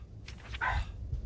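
A single dog bark sounds over low background rumble, moderately loud and brief, with no talk around it.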